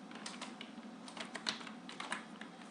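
Typing a C code comment on a computer keyboard gives a quick, irregular run of light key clicks, close and fairly soft, with no talk over it.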